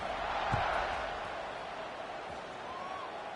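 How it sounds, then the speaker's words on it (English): A football stadium crowd buzzes after a score, a broad steady roar of many voices with a faint distant whoop, loud and continuous throughout. "this crowd is buzzing after that last score"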